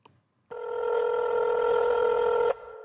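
A telephone rings once before a prank call, with a steady loud electronic tone that lasts about two seconds and then cuts off, and nobody talks over it.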